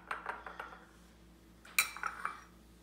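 A spoon scraping and clinking around a bowl of hummus, a few light, close taps and scrapes in two short bursts, with no one speaking.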